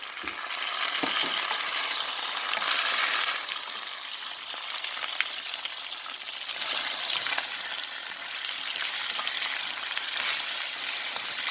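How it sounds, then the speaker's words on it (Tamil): Onions and pumpkin fry in a pan with a steady broadband sizzle, stirred now and then with a few scraping clinks, close and fairly loud with no talking. "இப்போ பாருங்கள் நல்லா பொறிஞ்சிருக்கு வெங்காயம் எல்லாம் நல்லா வதங்கிட்டு"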